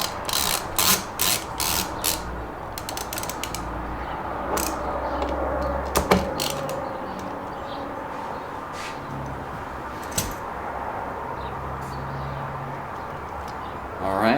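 Screws are worked loose from a tensioned bracket on the sunshade of a 2011 Audi S5, with small ratcheting clicks and mechanical taps over a steady background, close by.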